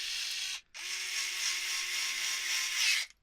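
Power screwdriver driving screws into holes on a Genius GTC8E 2025 bike during assembly, two sustained whirring runs separated by a brief pause, close and fairly quiet.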